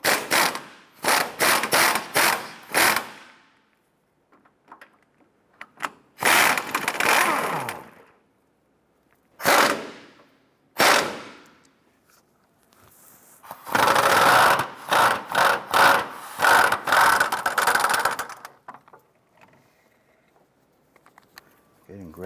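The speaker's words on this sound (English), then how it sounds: "Use your 17mm socket and extension and impact to remove the two lower mount bolts." Impact wrench with a 17mm socket and extension removing the lower engine mount bolts on a 2008-2012 Honda Accord, firing in loud, close rattling bursts of varying length with pauses between, ending with a longer run of rapid hammering.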